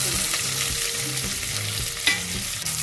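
Sliced large onions fry and get stirred in a pan with whole spices for mint rice, a steady close sizzle broken by soft scraping stir strokes, with no talk.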